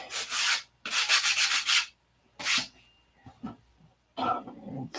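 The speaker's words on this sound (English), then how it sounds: "we're going to switch over to 180 grit sandpaper." Hand sanding of wood with 180 grit sandpaper, heard as three loud, rasping strokes of about a second each, separated by pauses, with softer handling noises and a brief throat-clearing sound in between.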